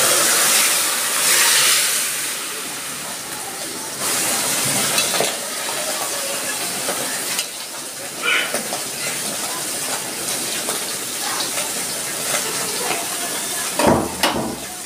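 Sour raw mango curry with small fish poured into hot oil tempered with mustard seeds and green chilli, a loud sizzling hiss and bubbling that tapers into a steady simmer, with a few clinks along the way.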